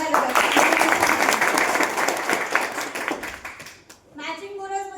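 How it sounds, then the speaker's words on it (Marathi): An audience at a business seminar claps loudly in a dense burst of applause lasting about four seconds, then it fades out as a voice begins speaking. "एकदा जोरदार टाळ्या वाजवा"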